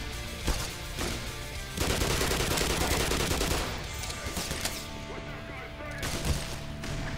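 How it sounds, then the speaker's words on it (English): Rapid gunfire and grenade blasts in the shooter game Black Mesa, loud overlapping bursts and heavy crashes in dense clusters, with a person's voice talking over the combat. "Stop shooting fucking grenades."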